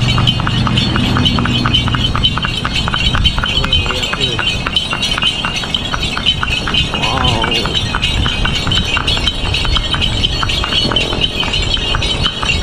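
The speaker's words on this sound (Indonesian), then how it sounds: "Naik kuda, naik delman." Horse hooves clip-clop steadily as a delman carriage is pulled along smooth asphalt in Bantaeng, South Sulawesi, with a continuous rhythmic trot, near and loud, joined by carriage rattles and brief snatches of voices.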